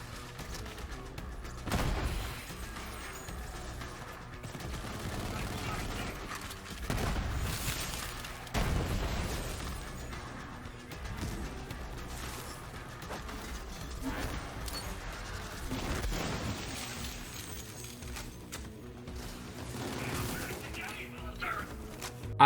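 Submachine gun fire from the Sickle, a legendary weapon in Borderlands 3, rattles in repeated bursts over a busy game soundscape with booms and effects, clustered in several loud flurries.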